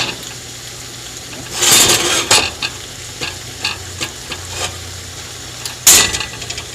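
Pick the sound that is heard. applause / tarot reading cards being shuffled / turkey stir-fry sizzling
turkey stir-fry sizzling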